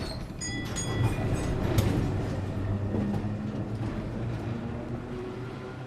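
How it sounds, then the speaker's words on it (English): A tram rolling along a city street toward Broadway, a steady rumbling ride with low rattling and faint squeals, continuous and moderately close throughout. "took a tram to Broadway"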